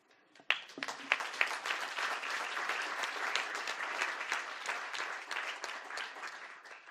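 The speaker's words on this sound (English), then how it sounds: "I'd like us to clap for the graduates of CPC Cohort 6 in Mauritania." Audience applause for graduates of a CPC cohort in Mauritania at an annual graduation ceremony, a steady wash of many hands clapping that swells after a sharp start and holds for several seconds.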